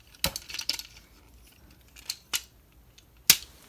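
Ratchet joints on a Wei Jiang transforming robot figure click as the plastic thighs rotate, sharp isolated clicks spaced irregularly with quiet gaps between them, close and fairly faint.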